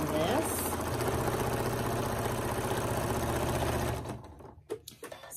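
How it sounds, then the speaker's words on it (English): A sewing machine fitted with a walking foot runs at a steady rapid stitching rhythm during straight-line quilting on a table topper, then stops near the end, leaving a few soft handling clicks. "I'm just doing some straight line quilting. I've got a walking foot on, and that is how I am quilting this."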